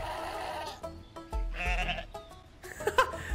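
Goat bleats from the video game Goat Simulator 3, several wavering cries over a busy game soundscape, moderately loud and close.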